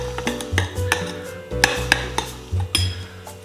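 Chicken kebab marinade of black pepper, salt and Italian herbs being mixed in a bowl: close, irregular clinks and scrapes of a utensil against the bowl, with a faint low hum underneath.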